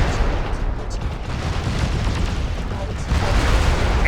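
Weapons explode in MechWarrior: Living Legends, a mech combat game. Dense, roaring blasts and rumbling impacts form a loud, continuous wall of sound that swells near the end.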